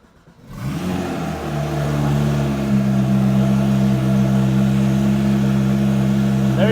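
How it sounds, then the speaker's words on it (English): A Porsche 911 GT3 RS 991.1 fitted with a Fab Speed aftermarket exhaust cold-starts after a brief quiet moment, the starter catching and the engine flaring up loudly before settling into a strong, steady high idle. "I wanted to go ahead and give you a cold start"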